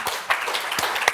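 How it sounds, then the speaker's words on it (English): A conference audience at an EU sustainable energy panel session gives brief, scattered applause, with a few distinct claps rising and fading over a short moment. "Please give the panel a round of applause."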